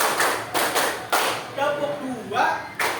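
A group clapping hands in a counted pattern: several sharp, loud bursts of claps spaced out over a few seconds, mixed with voices talking between them.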